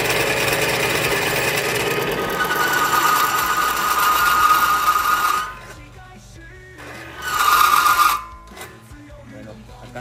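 A small test engine treated with Superkote 2000 runs steadily with a loud, busy mechanical drone, then cuts out and restarts briefly before falling quiet, with faint speech in the background.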